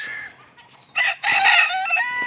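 White crested cuckoo chickens in backyard pens, with a rooster crowing loudly and close in two strong bursts, the second long and drawn out, over quieter clucking.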